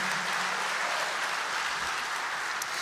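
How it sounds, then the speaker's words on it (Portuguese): A church congregation applauds for Jesus, a dense, even wash of many hands clapping together that holds at a constant level from start to finish, with no voices standing out. "Dá um aplauso para Ele,"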